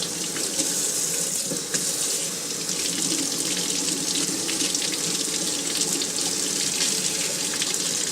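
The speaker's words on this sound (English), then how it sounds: "what we're going to do is get some hot water in here" Hot water gushes steadily from a tap into a pan, a loud continuous rush with no break for about eight seconds.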